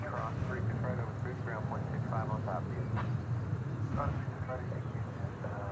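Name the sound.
airplane descending into DFW airport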